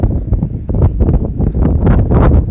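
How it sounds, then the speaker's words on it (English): Gusty wind buffets the microphone in loud, uneven rumbling blasts, with a faint rustle underneath, at an outdoor flag football game in Shippensburg. "It is a windy one here in Shippensburg"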